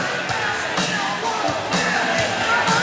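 Crowd at a roller derby bout makes a steady, loud babble of chatter with scattered cheers and whoops, filling the whole stretch without a break.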